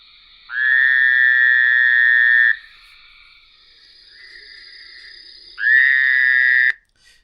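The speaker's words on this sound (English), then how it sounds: "But that is the Fowler's toad." Two long, loud nasal buzzing trills from a Fowler's toad, close and clear in a quiet setting. Each lasts about two seconds, with a fainter, steadier buzz between them.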